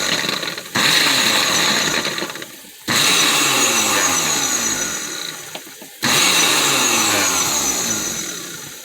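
A blender blade chopping green beans whirs loudly in three long runs, each starting abruptly with a steady high-pitched motor drone that slowly sags before cutting off.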